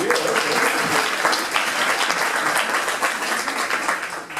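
A corporate club's anniversary audience applauds for an introduced board member, producing a steady wash of many hands clapping that holds loud and unbroken for several seconds, with a few faint voices mixed in.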